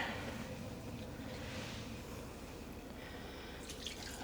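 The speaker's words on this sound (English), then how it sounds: "We're adding a couple of liters of water first." Couple of liters of water being poured into a container for dyeing yarn at home, a faint, steady trickling and splashing pour with light dripping, close by and alone.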